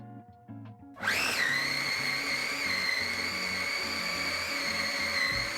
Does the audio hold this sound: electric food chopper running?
yes